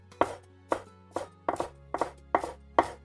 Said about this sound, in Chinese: 给它切成葱花